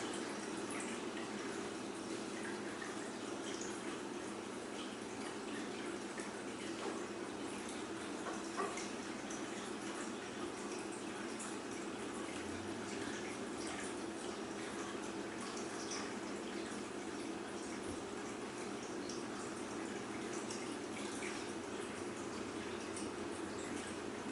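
Steady flowing water runs continuously through the whole stretch at an even, moderate level, like a running tap or stream played during a guided meditation and yoga session, with no voices over it.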